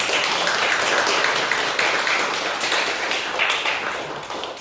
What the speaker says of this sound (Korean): 찬양에 박수를 한번 올려드릴까요?